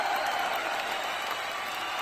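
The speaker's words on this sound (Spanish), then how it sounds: "Se la despide con un aplauso porque es una gran artista. Un gran aplauso." A studio audience gives sustained applause to a departing artist on an entertainment show, an even, continuous wash of clapping with no pauses.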